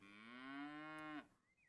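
A single cow in the video game Ages of Cataria gives a long, clear moo that swells and then cuts off after about a second, followed by a faint high tone.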